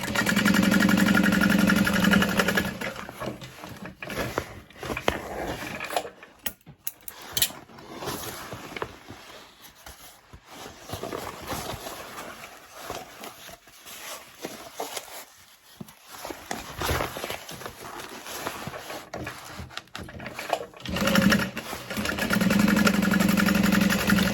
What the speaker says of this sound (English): You can flatten the sides together and sew from line to line.